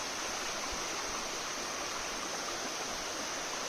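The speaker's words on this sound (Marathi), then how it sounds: "इथे पाणी आता आले खाली इथे जोरात येतं बघा" Clear spring water from a forest spring gushes steadily out of a freshly cleaned pipe, a constant close-up rushing hiss with no pauses.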